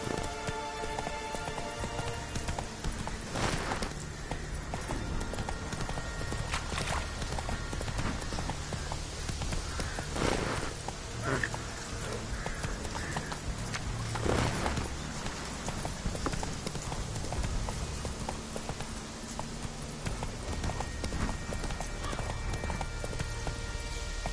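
The horse Roach gallops in the video game Witcher 3, with a continuous, rapid clip-clop of hooves that stays close and steady throughout. A rain-like patter runs underneath, with occasional sharper sweeps.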